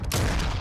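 Rapid gunfire from a first-person shooter video game, a dense loud burst of shots filling the whole moment.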